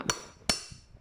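Two sharp, ringing taps about half a second apart knock a handle down into place on a handmade woven basket. Each strike is close and crisp, with a short bright decay.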